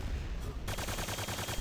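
Rapid, evenly spaced weapon fire in Quake 2, from the railgun and grenade launcher, heard as a fast rattling series of shots that starts abruptly partway through.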